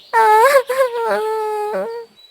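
A cartoon parrot crying over her stolen egg, voiced by a person imitating wailing sobs: a loud, close, high-pitched drawn-out wail broken into a few sobbing bursts, with no other sound.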